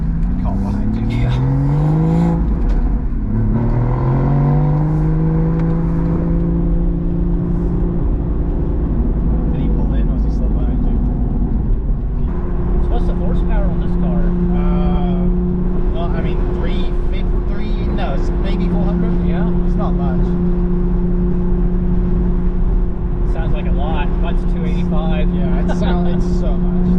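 A 2016 Porsche Boxster Spyder's engine drones steadily from inside the cabin while driving, its pitch climbing and settling through revs, with someone talking over it much of the time.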